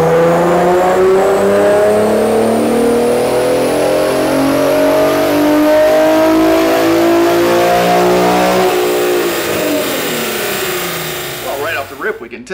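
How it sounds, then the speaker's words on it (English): An Infiniti Q50 fitted with an aftermarket intake and a custom catback exhaust revs hard through a dyno pull, engine pitch climbing steadily and loudly for about nine seconds before easing off and dropping away. "we got the car on the dyno. We did a couple pulls."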